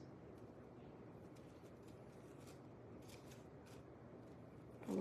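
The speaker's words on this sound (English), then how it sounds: "I'm going to cut off just enough here" Scissors cutting craft material, a few faint, quiet snips spaced apart over a soft background hiss.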